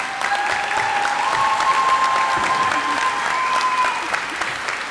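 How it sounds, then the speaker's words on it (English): Applause from the audience at a college commencement ceremony, a dense, steady clapping that carries through the whole stretch at full volume with no talk over it. "Let's give her another round of applause."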